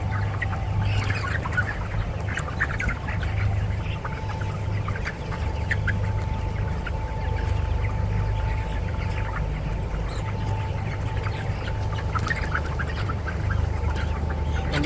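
A large flock of broiler chickens, about four weeks old, clucks and murmurs continuously inside a shed, over a constant low mechanical hum.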